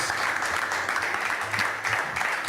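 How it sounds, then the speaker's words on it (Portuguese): An audience applauding guests at a cookbook presentation, steady continuous clapping from a crowd heard at moderate loudness for a couple of seconds. "Um aplauso para os nossos convidados"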